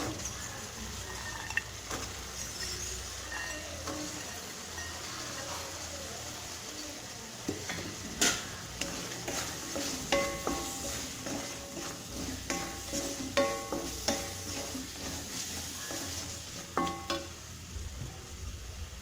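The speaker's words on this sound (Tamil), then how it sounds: "இப்போ பச்சை துவரை போட்டுக்கிறேன்" Fresh pigeon peas tipped into sautéed tomato in a pan for a pigeon pea and potato kurma, stirred with a spoon, giving a steady low sizzle with scraping and clinking strokes that grow busier toward the end.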